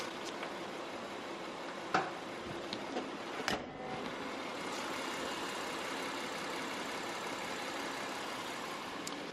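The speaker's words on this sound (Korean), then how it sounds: "엔진 소음 먼저 들려드리면은 확실히 굉장히 조용하고 정숙한 엔진 소음이고요" A full-size imported full-time four-wheel-drive SUV engine idles quietly and steadily, a smooth low hum with a couple of brief knocks and clicks near the start.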